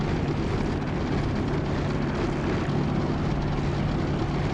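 A propeller aircraft engine runs up during a magneto check in the DCS flight simulator, producing a loud, steady, close drone with a constant low hum and no noticeable change across the stretch.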